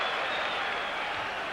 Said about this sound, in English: Some dissent from the crowd